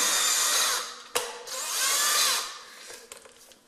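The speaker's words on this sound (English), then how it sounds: "We'll get our drill driver ready." A cordless drill whirs in two long bursts, its pitch rising and falling as it drives a screw into wood, followed by a few short clicks and taps.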